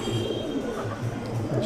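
A Madrasi pigeon cooing up close, soft repeated low coos over a steady background hum, with someone talking at moments.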